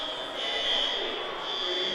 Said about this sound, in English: Set off the smoke alarms.